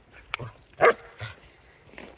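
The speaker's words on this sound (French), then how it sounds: "Voici Toc Toc le chien." A dog in the Cévennes countryside gives a few short, close barks and yips, spaced irregularly over about two seconds, with no one talking over them.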